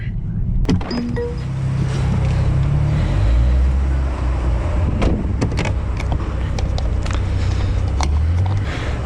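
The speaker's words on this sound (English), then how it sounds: "high flow, wait till the pump stops, low flow, wait till the pump stops, low flow again" Fuel pump nozzle filling the tank of a 2020 Mercedes-AMG A35, a steady, fairly loud whirring flow with a low hum that runs continuously, with a few faint clicks and knocks.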